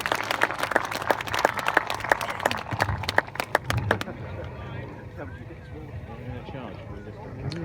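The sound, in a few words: crowd applauding and cheering for the troopers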